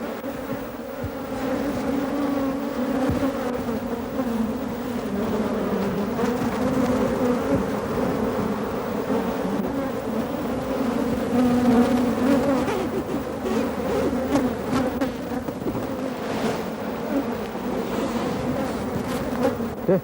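A swarm of tens of thousands of honeybees drones in a dense, steady buzz that holds loud and close for the whole stretch, with no voices heard.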